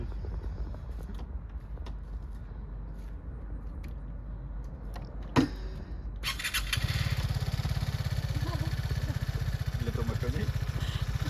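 A motorcycle is started: quiet fiddling first, a sharp click, then the engine catches and settles into a steady, loud idle close by, with faint voices underneath.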